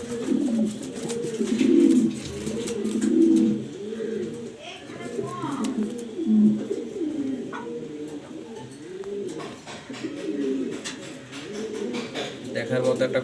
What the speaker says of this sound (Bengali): ভরপুর ডাকে এবং কবুতরটা অনেক সুন্দর মাশাআল্লাহ